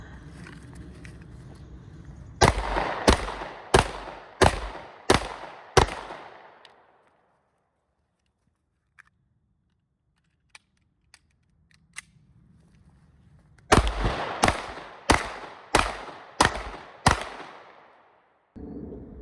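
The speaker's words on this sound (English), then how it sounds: "fire 2 shots into each target, and she's going to take cover doing a magazine change" Two rapid strings of six sharp, loud pistol shots from a Smith & Wesson M&P 9 Shield EZ fired at man-sized targets on an outdoor range, separated by a quiet pause of faint handling clicks during a magazine change.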